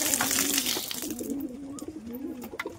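Giribaj pigeons feeding: soft, low, rolling coos repeat close by in a gentle rhythm, over faint rustling of the birds at their food.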